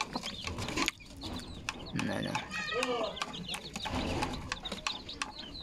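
Two hens cluck in short bursts close by, with a rooster-like call rising midway, against background rustling and clatter.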